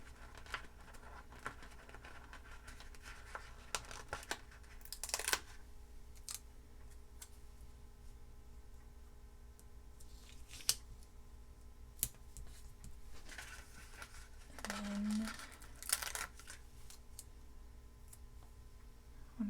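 Scissors trimming small paper pieces for a weekly planner layout: sparse, quiet snips and ticks scattered over a soft background hum, with no talking.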